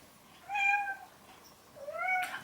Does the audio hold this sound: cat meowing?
yes